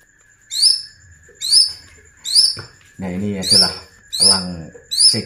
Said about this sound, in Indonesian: ini adalah elang